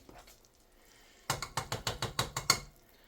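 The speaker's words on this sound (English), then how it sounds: "Stir it around." A spoon stirs a corn syrup candy mixture for macadamia nut roca in a pot, giving about eight rhythmic clinking scrapes in quick, even succession after a quiet start.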